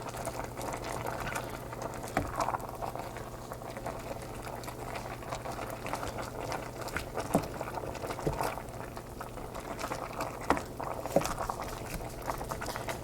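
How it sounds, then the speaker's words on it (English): Pot of cabbage stew at a steady boil, a soft continuous bubbling and popping with occasional louder blips, fairly quiet and close, no talking. "So our cabbage is boiling up nicely."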